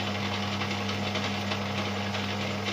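A metal lathe turns at 240 RPM while machining a BSA Bantam exhaust link pipe, a steady close droning hum with faint rhythmic mechanical chatter throughout and no talk.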